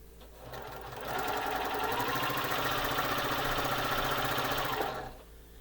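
A sewing machine with diagonal seam tape stitches a quilt seam, running steadily and evenly for about four seconds up close, with a soft start and stop.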